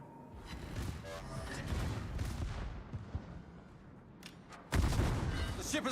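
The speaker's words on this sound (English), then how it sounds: "Oh, the Fuso's shooting." Battleship Fuso's main guns firing in a naval combat video game, deep rumbling booms over steady engine and sea noise, with a sharper, louder blast near the end.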